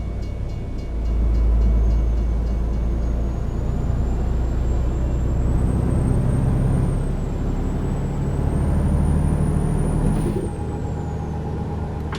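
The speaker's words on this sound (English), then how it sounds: "Another train." A train rolls past in the American Truck Simulator game on a route through Oklahoma: a steady low rumble swells and holds with a thin high whine gliding over it, fading near the end, with no talk.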